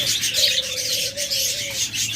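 Pet cockatiels and lovebirds chirp together in a dense, steady chatter, with one long, clear whistled note drawn out across the middle of the flock's noise.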